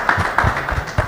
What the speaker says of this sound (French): On l'applaudit quand même, hein?